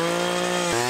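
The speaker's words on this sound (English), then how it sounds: "we're using a one-man auger" A one-man powered earth auger digging a post hole on a ranch, its small engine droning loud and steady with a harmonic whine that dips briefly in pitch near the end.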